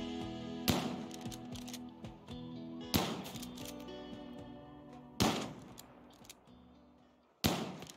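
Gunfire in RimWorld: four sharp shots spaced a couple of seconds apart, each a loud crack trailing off, over a steady bed of game music with no talking.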